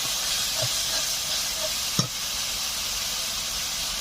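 Chopped tomato with ground garlic, cumin and dried chilli paste dropped into hot oil for a Bengali fish curry, sizzling with a steady bright hiss, a few small pops and one sharp clatter midway.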